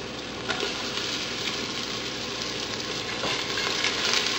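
Onion sizzling in hot oil for pork tinola, a steady close crackle and hiss with occasional stirring clicks, no voices.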